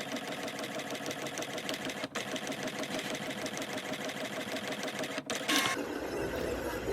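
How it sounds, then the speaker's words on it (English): A Silhouette cutting machine slices printed paper layers for a diorama, giving a continuous rapid mechanical chatter and whir with brief pauses, then a short burst of higher noise near the end. "here, my friends, is the Silhouette machine doing its magic, cutting those layers out"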